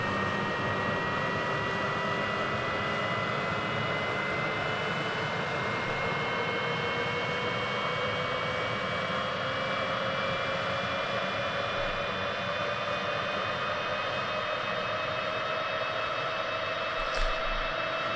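A steady aircraft engine drone with rising whining tones from a SubSonex JSX-2 jet in Microsoft Flight Simulator, running continuously and evenly throughout, with no talking.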